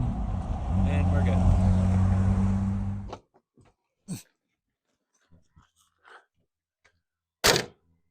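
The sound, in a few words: 1962 Ford Ranchero engine accelerating and shifting gears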